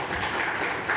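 A brief burst of audience applause at a city committee hearing, a steady patter of clapping from a room of people lasting about a second.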